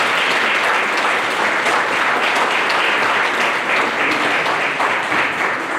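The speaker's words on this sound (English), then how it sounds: "let's take a moment to give them a round of applause for supporting you" Sustained applause from an audience at a Phi Theta Kappa honor society induction ceremony, a dense, steady wash of many hands clapping throughout, loud and continuous with no speech over it.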